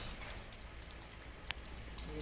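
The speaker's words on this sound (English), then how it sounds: "So it's raining right now." Rain falling steadily on a building site in Ghana, a soft continuous hiss of drops with one sharp knock partway through and a faint voice in the background.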